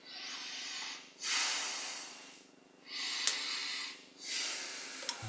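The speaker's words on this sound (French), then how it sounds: "Et on prend deux grandes respirations." Two deep, slow breaths taken during a seated meditation stretch, each a long airy hiss of inhaling then exhaling, close and steady with a short quiet gap between them.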